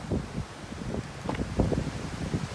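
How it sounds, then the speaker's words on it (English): Wind gusts outdoors, heard as a rough, buffeting rush of noise against the microphone with rustling, steady but uneven, with no voices. "It's starting to get too windy right now."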